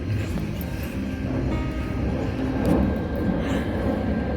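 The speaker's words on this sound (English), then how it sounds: "Sorry about all the airplanes." Low-flying airplanes pass overhead above a home garden orchard in rainy weather, a steady loud broadband roar that swells slightly midway, with no talking.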